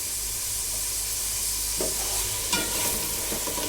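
Whole spices, cardamom and cinnamon among them, sautéing together in a pan on high heat for pulao, with a constant loud sizzle and hiss and a few stirring scrapes near the end.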